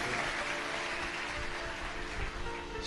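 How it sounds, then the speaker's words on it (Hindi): An audience at a Shiva katha religious discourse claps loudly for the visiting saints, a dense, steady wash of applause that fills the whole moment with no voices over it. "बार जोरदार ताली बजाकर संतों के लिए"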